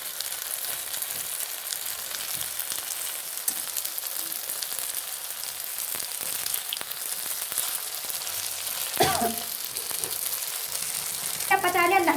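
Pindalu (taro) leaf pakoras fry in hot oil with a continuous bubbling sizzle, and a few clinks and scrapes come near the end as they are turned.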